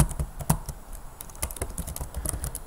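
Keys clicking on a computer keyboard while typing Python code, with a sharp tap early on followed by a quick, uneven run of close keystrokes and no talking.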